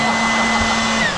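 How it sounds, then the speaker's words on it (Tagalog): A newly unboxed hair blower runs at full power, giving a loud, steady whirring drone with a constant high whine for the whole moment. "blower."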